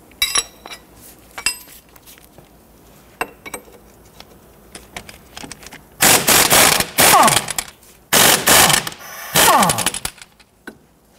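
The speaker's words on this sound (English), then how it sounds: "Using a 22mm socket and wrench, I want to go ahead and loosen the bolt and the nut here." A socket wrench works the 22mm bolt and nut on the front brake flex hose of a 1992-1996 Toyota Camry, with a few quiet clicks early on, then loud bursts of ratcheting and metallic clinking close by, alone without talk.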